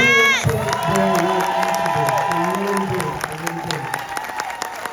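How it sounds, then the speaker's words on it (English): Loud audience applause mixed with cheering and whoops at a knitting fashion show, as designers come on stage; dense, sustained crowd noise with shouting voices throughout. "Give a round of applause for these guys."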